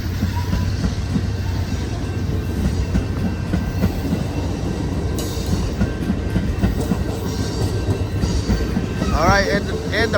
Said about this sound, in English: there go that train, folks, on its way to Los Angeles